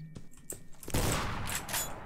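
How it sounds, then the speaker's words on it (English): Gunshots in the Granny mobile horror game: a few faint sharp cracks, then a dense burst of rapid fire that carries on as a noisy wash, fairly quiet overall. "I'm gonna shoot him before I even enter the room"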